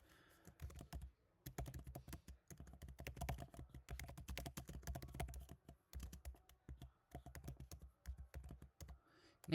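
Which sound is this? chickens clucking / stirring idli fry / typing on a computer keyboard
typing on a computer keyboard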